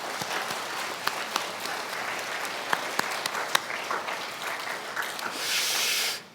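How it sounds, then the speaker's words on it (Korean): Congregation applause at a Korean-language Sunday worship service at San Antonio Onnuri Church: a steady, dense wash of clapping that holds for several seconds, with a few sharper claps standing out and a brief hiss-like swell near the end. "모든 서로 박수 한번 하겠습니다"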